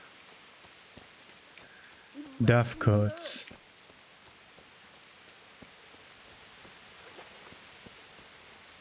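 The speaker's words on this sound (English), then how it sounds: "And also it's raining" Steady soft rain patters throughout in Kingdom Come: Deliverance, with a short spoken phrase partway through and faint scattered drips.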